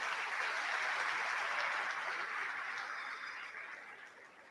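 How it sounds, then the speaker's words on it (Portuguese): A church congregation applauds during a worship service, a dense, steady wash of many hands clapping together that stays loud and fills the room, then gradually thins and softens toward the end. "Pode aplaudir o Senhor."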